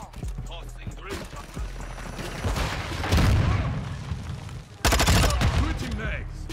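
In the video game Modern Warfare II, bursts of gunfire build to loud heavy volleys with sharp impacts, while a voice talks intermittently in between.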